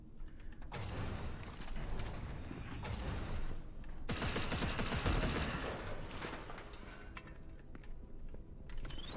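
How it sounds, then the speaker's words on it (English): In a shooter video game, gunfire rattles toward the player as a dense, continuous fusillade with clattering mechanical noise, swelling after an abrupt loud onset midway and then thinning out, with no voices. "Who is shooting at me?"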